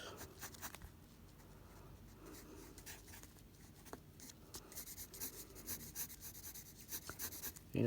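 Pencil drawing on paper, soft scratchy strokes and rubbing in short irregular bursts, close and quiet, growing a little busier toward the end.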